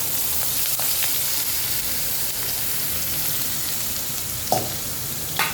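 Onions sizzle in hot oil with asafoetida for a brinjal olo, a dense steady crackle close by with one clear utensil scrape toward the end.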